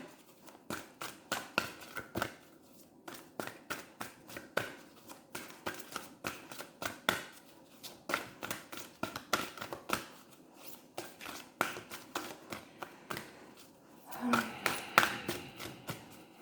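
Tarot cards are shuffled by hand for a daily reading, a steady run of soft riffling flicks and taps close by, with a denser flurry near the end and no talking.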